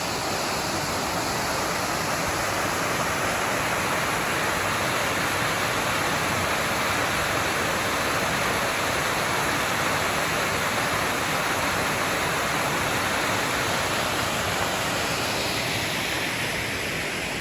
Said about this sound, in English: Rose River Falls.